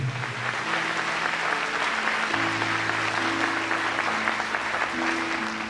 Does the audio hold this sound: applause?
yes